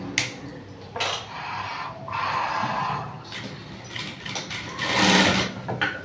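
A sewing machine stitches a princess cut blouse in a tailoring class, its motor running in short bursts with pauses between runs, fairly close and steady, with no talking.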